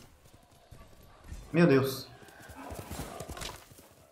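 Hooves clop steadily while riding a horse in the Ghost of Tsushima video game, heard under a brief exclamation from a player's voice and light game ambience.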